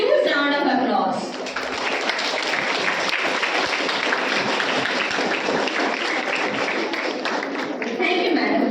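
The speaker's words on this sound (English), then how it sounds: "I request everyone to give a huge round of applause." Audience applause at a DAV Public School World Health Day event in Berhampur, a dense, sustained round of clapping filling the room for several seconds after a brief voice at the start.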